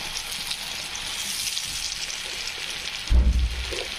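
Onion frying in oil with salt, a steady soft crackling sizzle throughout, with a brief louder clatter near the end.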